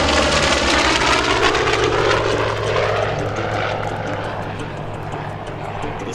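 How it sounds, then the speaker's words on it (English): A Douglas A-1E Skyraider, a 1960s single-seat propeller attack aircraft, flies past at an airshow, its piston engine a loud, steady roar that slowly fades as it moves away. "a versatile airplane of the 1960s and 70s, was the American single-seat attack aircraft"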